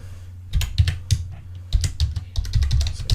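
Quick bursts of keystrokes on a computer keyboard, irregular clusters of crisp taps with short pauses between, close and fairly quiet over a low steady hum.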